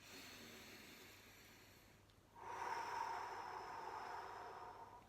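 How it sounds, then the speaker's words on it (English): A slow, deep breath taken close to the mic: a soft airy hiss of inhalation, then a louder, fuller exhale that tapers off, alone with no talking. "Before you do anything, always deep breath."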